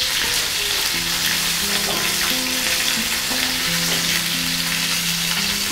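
Pork ribs fry with lemongrass and chili in hot oil, a loud, steady, close crackling sizzle throughout, while tonal music plays beneath it.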